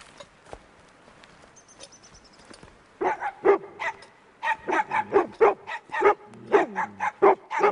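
A small dog barks in a quick run of sharp, repeated yaps, close and loud, following a few seconds of quiet near-silence at the start.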